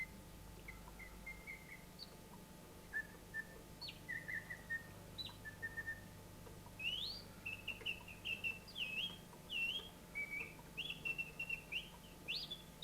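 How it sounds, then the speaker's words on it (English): An antique mechanical singing skylark automaton, a period executive toy, trills and chirps in short, bright warbling phrases. The quiet, bird-like whistles come in bursts that grow busier as it goes on. "Now you listen now when I switch on this beautiful skylark"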